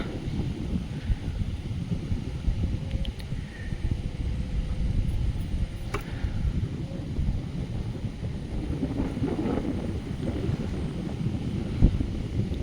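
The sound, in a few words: strong wind blowing on microphone outdoors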